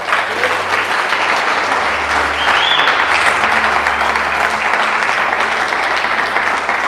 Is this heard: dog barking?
no